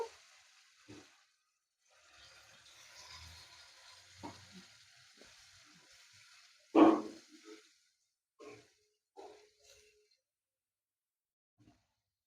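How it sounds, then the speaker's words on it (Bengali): A cabbage and yogurt mixture goes into a hot pan of fried spices, giving quiet, intermittent sizzling broken by a sharp clatter midway and a few softer stirring knocks. "বাঁধাকপি আর দইয়ের মিশ্রণটা এখন দিয়ে দেব"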